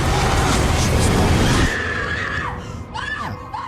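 A girl screams very loudly in a horror film, a long harsh burst of about a second and a half, then wavering high cries trail off over quieter background noise.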